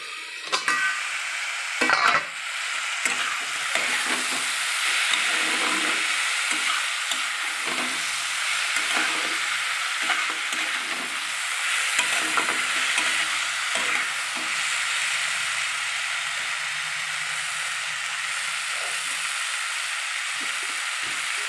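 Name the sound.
stirring frying food with a metal spatula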